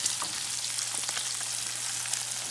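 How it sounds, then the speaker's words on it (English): Lake trout sizzles and crackles in hot oil in a frying pan, a steady, close frying hiss with small pops and no talking. "we just added the fish to the oil"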